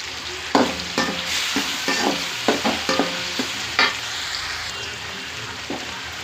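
Curry leaves hit hot oil with softened onions while noodles are being cooked, sizzling steadily with repeated stirring scrapes and knocks, close and fairly loud, with no talking.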